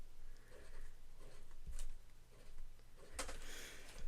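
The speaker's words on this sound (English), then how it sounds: "I'm going to write that as the start weight." Pen writing a start weight into a Sterling Ink fitness planner, quiet scratchy strokes in short bursts with a couple of small taps between them, close and alone.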